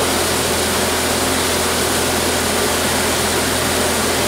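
A milling machine runs at 2,500 RPM while resurfacing an MGB engine block deck. It makes a loud, constant mechanical whir and hum with no change in pitch or level, close by and without talk.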